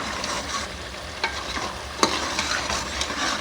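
Spinach and mutton frying in a pan for palak gosht, a soft continuous sizzle broken by a few scraping stirs and one sharp clink of the spoon.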